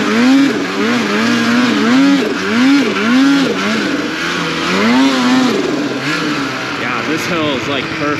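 A snowmobile engine revs and surges in repeated rising-and-falling waves while climbing a snowy practice hill, loud and close throughout, with a few clearly separate pitch sweeps.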